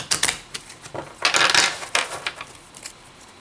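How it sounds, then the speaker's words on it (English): Tarot cards are shuffled by hand at close range: a quick series of crisp papery riffles and flicks, with a longer, fuller burst in the middle, and no talking. "And then I'll shuffle it again."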